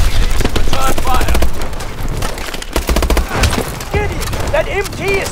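Dense automatic gunfire and bursts in the Call of Duty Advanced Warfare mission Fission, loud rapid volleys with breaks between, mixed with shouted voices.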